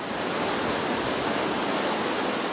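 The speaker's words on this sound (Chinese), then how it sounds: "冲刷而下的瀑布激起大片水花" Baishuiquan waterfall, where the stream pours out of a channel cut in the mountain wall and throws up heavy spray, makes a dense, constant roar of rushing water that fills the whole clip without a break.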